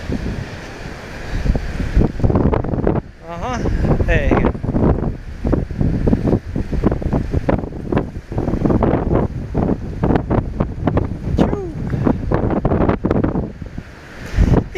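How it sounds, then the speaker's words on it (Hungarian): Strong wind at the seashore buffets the microphone in heavy gusts, with surf rumbling beneath and people talking briefly over the roar. "erős szél fúj"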